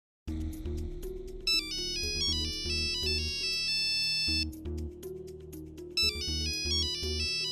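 A phone ringtone plays alone for several seconds, a bright, repeating electronic melody with a steady beat, close and fairly loud, with no voices.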